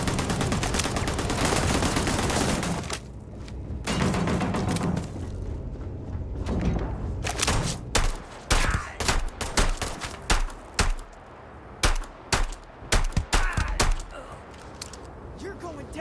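A firefight in Starfield: sustained automatic gunfire at first, then a run of sharp, separate shots and bursts with short gaps between them, loud and close.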